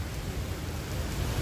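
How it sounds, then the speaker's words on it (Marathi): Heavy rain pours down steadily in a dense, unbroken wash of noise, loud and close, with no voices over it. "पाऊस किती जोरात येतोय."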